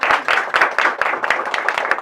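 A church congregation at an evangelical service claps rhythmically in close, loud bursts, with a steady beat running through the applause.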